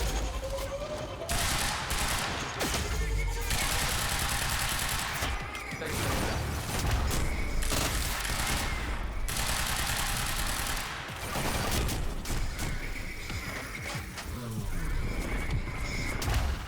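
Assault rifle fire in Quantum Break, sharp bursts and rapid volleys of shots in several clusters, loud and close, with mechanical clatter and brief quieter gaps between them.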